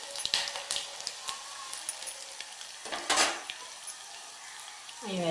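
Fenugreek, cumin, mustard seeds, urad dal, chana dal, coriander seeds and crushed garlic frying in oil as a tomato rasam tempering, a steady close sizzle with crackles and utensil scrapes under an unclear voice.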